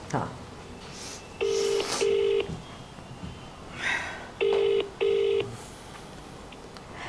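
Two pairs of short telephone keypad dialing tones, each pair a quick double beep, spaced a few seconds apart while someone talks softly in between on a show calling a fan.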